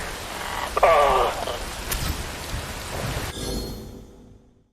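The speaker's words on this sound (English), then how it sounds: "Wind blows. Rain falls." Steady rain hisses with a rumble of thunder in the video game Metal Gear Rising, a dense wash of falling water with a brief sharp crack, fading out at the end under a low voice.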